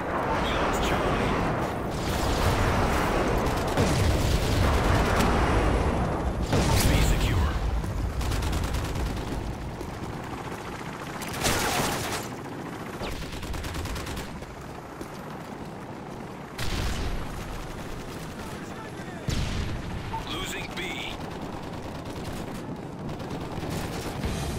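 Airstrike blasts and rattling gunfire from a Modern Warfare 3 PC multiplayer match roll on continuously, loud and dense, with heavy booms recurring over the chaos and voices speaking amid the battle.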